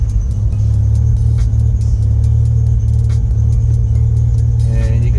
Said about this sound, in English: Start up the car.